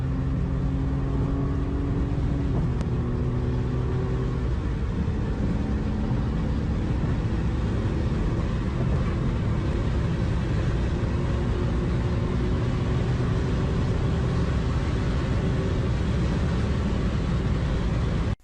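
A BMW driven fast down a straight road, its engine a steady, loud rumble that holds without a break, with a faint tonal whine sliding slightly in pitch partway through.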